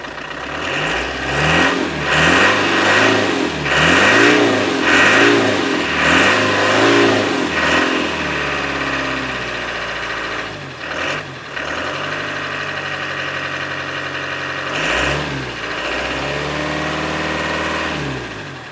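A Land Rover 300Tdi diesel engine with fuel supply problems revs repeatedly in uneven surges, rising and falling several times, then settles into a rough idle before revving again. Loud and close, with no speech.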